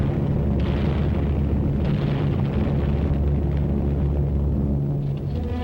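Wartime aerial bombing and strafing by the Allied Eastern Air Command, with a continuous heavy rumble of explosions that stays loud and dense throughout, with no voices.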